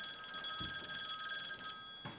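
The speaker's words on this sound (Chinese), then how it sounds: "田宇，电话。" A telephone bell rings in a continuous, steady trill, close and clear, with no talking over it.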